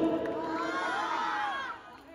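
An audience at a dance show cheers and shouts together, a lively crowd roar with overlapping voices that swells and then fades out over about two seconds.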